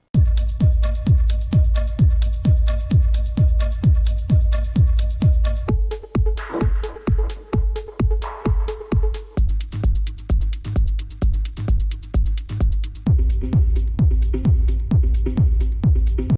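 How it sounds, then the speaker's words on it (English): Four dry techno drum loops played back to back with no effect applied, each a steady driving four-on-the-floor kick pattern with hats and percussion, changing loop every few seconds, loud and close with no voices. "I'm going to use 4 drum loops, 4 techno drum loops."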